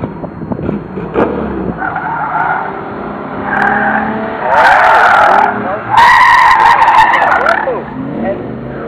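A Ford Mustang Mach 1 on an autocross course at a civic center lot, engine revving and tires squealing in repeated skids, loud and close, with someone talking over it.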